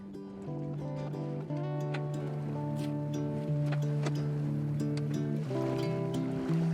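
A Zodiac inflatable boat motors among Antarctic icebergs, its outboard engine droning steadily and shifting pitch in steps, with water splashing and wind noise over the top.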